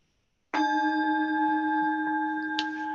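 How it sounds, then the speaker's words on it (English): A meditation bell is struck once, sharply, after a moment of silence, then rings on with a clear sustained tone that slowly fades, with a faint second touch near the end. "You bang the bell"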